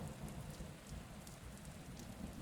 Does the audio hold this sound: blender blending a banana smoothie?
no